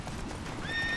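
A horse in The Witcher 3: Wild Hunt whinnies in a high, rising neigh over a steady patter of hooves, close and fairly loud, with no voices.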